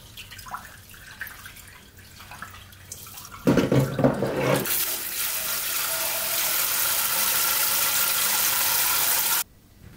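Water runs from a tap for several seconds while something is rinsed and washed under it, splashing and gushing steadily, close and fairly loud, then cut off abruptly.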